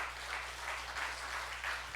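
Applause from a church congregation during a Sunday sermon, a steady wash of many hands clapping at moderate distance for about two seconds, with no speech over it.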